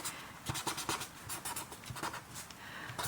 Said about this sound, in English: I hope you're seeing what I'm writing.